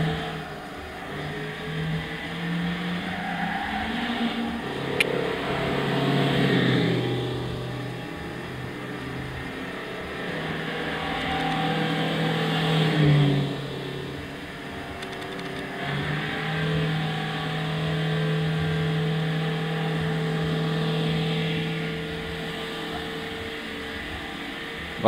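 Toyota Will VS 1.8 16V engine in Gran Turismo 6, driven in third gear on a circuit, drones steadily with a continuous hum that rises and falls as revs change, close and unbroken throughout.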